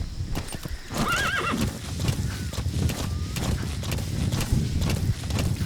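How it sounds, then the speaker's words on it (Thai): A horse in Metal Gear Solid V gallops across Afghan terrain, steady rapid hoofbeats up close, with a shrill rising whinny near the start over continuous game ambience. "ขี่ม้าลุย"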